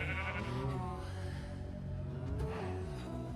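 A Minecraft sheep bleats repeatedly in a wavering, nasal tone, loud and close, with a steady background hum.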